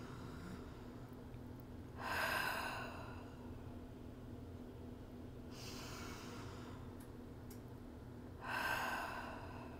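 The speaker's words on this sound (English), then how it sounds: "take a few deep breaths" Three slow, deep breaths taken during a stretch, each a soft audible inhale or exhale a few seconds apart, close and faint over a quiet steady hum.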